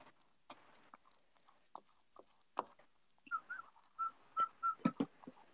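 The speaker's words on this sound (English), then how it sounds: "Who's whistling?" A few short whistled notes in a quick series, near and fairly soft, after scattered clicks and small handling noises.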